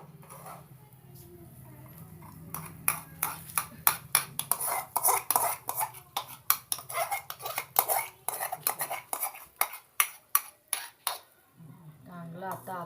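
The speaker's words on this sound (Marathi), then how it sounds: "चांगलं आता आपण परतून घ्यायचं, जेणेकरून गाठ व्हावी नाही. असं हलवतच राहायचं." A spoon stirs thick gram flour pithla in a pot on a small village stove, making a quick run of close metallic scrapes and clinks. Quiet talk is heard at the start and the end.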